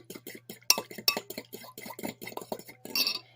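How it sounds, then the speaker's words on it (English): A spoon mixes wet ingredients for a cinnamon roll mug cake in a mug, a quick run of bright clinks and taps against the ceramic, close and crisp, with no talking over it. "And you just mix it."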